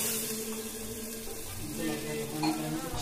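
Mutton goes into a kadai of hot, sizzling gravy with a moderate, continuous frying hiss and some soft stirring and clinking, no talk over it.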